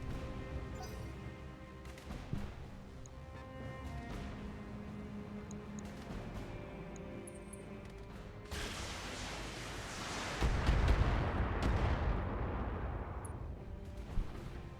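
Mech weapons in the BattleTech strategy game fire in a heavy volley, scattered shots giving way to a loud sustained roar of blasts and rumbling impacts near the end, with a mechanical music-like drone beneath.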